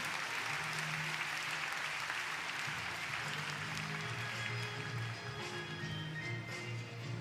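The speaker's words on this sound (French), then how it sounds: "Vos applaudissements" Steady applause from spectators at a pony show-jumping Grand Prix, fairly distant and even, with a low hum and faint crowd murmur beneath the clapping throughout.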